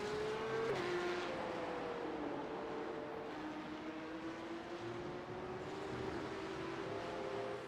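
Porsche Cup race cars in iRacing at VIR, engines droning steadily with pitch drops as they sweep past, a continuous moderately loud roar with no talking.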